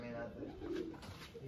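A pet pigeon is let out of its loft, with soft, faint cooing over a quiet murmur of background sound, heard only briefly.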